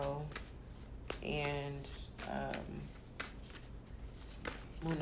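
Wild Unknown Animal Spirit tarot cards being shuffled, a steady riffling rustle running the whole time under a woman's continuous speech.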